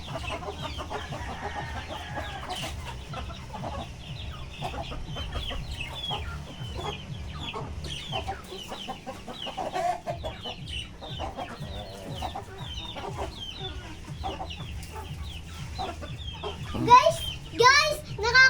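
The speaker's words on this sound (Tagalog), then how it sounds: "Nakakatuwa magpakain ng manok, lalo na pag tumatakbo sila." Backyard chickens are being fed, their clucks and soft calls scattered over a continuous scratchy, rustling background, with a voice chattering and louder squawks rising near the end.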